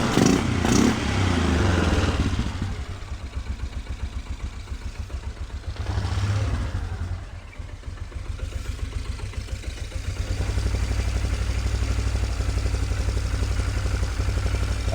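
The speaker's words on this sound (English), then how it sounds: "I don't know if it's going to idle or not. Let's see. It idles." 1997 Polaris Sportsman 500 ATV with a carburetor problem, running with an uneven lumpy idle and a fuel-line leak, loud and close with a brief rev near the start and steady thumping pulses afterward.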